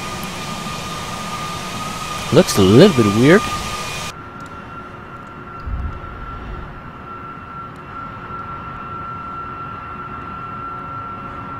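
Airliner jet engines hum in a steady, moderately loud drone during a flight-simulator cruise over southern Germany while fuel is dumped. Someone talks briefly over the drone, and a short rumbling bump comes midway.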